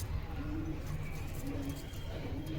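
A male Giribaz pigeon coos in several short, low, repeated phrases close by just after being released, with faint background noise.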